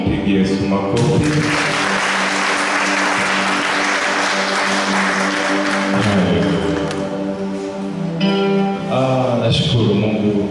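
A church congregation at a Thursday midweek service claps loudly and steadily for several seconds, a dense wash of applause mixed with cheering voices and musical tones.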